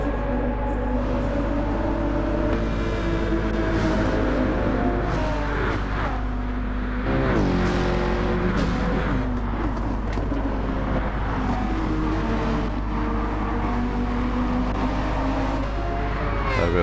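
A pack of race cars in Gran Turismo 7 on the Trial Mountain circuit, their engines a continuous layered drone with whining tones that rise and fall as cars pass and jostle. The sound runs loud and steady throughout.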